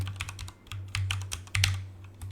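Quiet typing on a computer keyboard while entering a Python command at a command prompt: a few scattered, uneven key clicks close by, with no speech.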